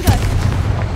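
A Confringo blasting spell explodes in Hogwarts Legacy, a dense low booming burst with rumbling body filling the whole moment, loud and close.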